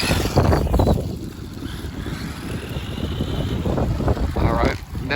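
Strong gusty wind buffets the microphone outdoors during an RC buggy run, a loud roaring rush that swells and dips throughout.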